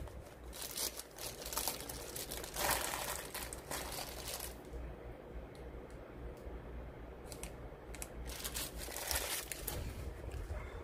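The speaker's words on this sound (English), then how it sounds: "Let me just remove it from this plastic wrap" Plastic wrap crinkles and rustles close up as a figure is pulled free, quiet irregular bursts of crackling and crumpling with no speech.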